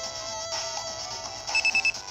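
Email notification chime from the Megaman Battle Network 2 game, a bright electronic ringtone-like tone that ends in four quick repeated beeps, alone with no talk.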